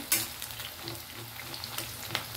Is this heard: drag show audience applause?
no